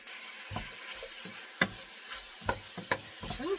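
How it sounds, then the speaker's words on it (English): Mushrooms stirred in oil in a pan, a low sizzle broken by scattered utensil scrapes and a few sharp clacks against the pan, fairly quiet and close. "I'm going to make sure the mushrooms get nice and coated with the oil. So I'm just going to stir them around."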